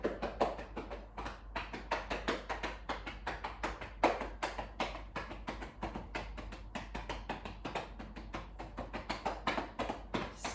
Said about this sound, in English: You can do some tapping.